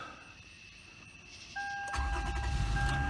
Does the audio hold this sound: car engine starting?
yes